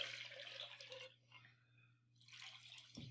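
Water poured into a quart measuring container, a soft splashing pour that fades out mid-way and resumes, with a steady low hum underneath.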